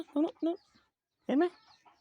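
Chickens give a few close, short clucks in two quick bursts, then another after a pause, loud and distinct against an otherwise quiet background.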